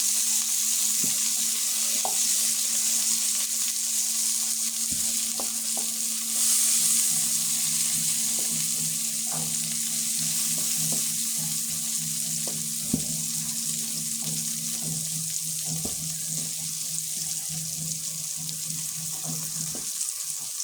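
Food sizzling steadily in a hot pan during home cooking of a Bengali lunch, with intermittent scraping and clinks as it is stirred and turned over; constant close frying hiss throughout, no talking.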